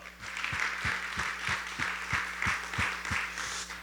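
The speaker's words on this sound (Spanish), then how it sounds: "Démosles un fuerte aplauso." A congregation at a church women's meeting claws out rhythmic applause in steady, even beats, a moderately loud crowd sound that keeps a regular pulse throughout.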